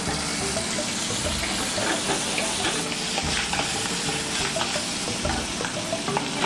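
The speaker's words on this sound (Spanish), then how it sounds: "Está vivo el chipirón, ¿eh? ¿Y cómo se está friendo por la temperatura, no?" Baby squid fry in hot oil flavored with chili pepper, giving a loud, continuous sizzle and crackle close up with frequent bubbling pops and no talking.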